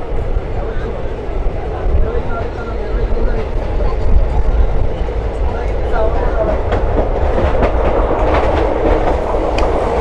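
The 17239 Simhadri Express passenger train, just departed Pithapuram, rolls along the tracks with a steady rumble and rhythmic clatter, loud and close throughout.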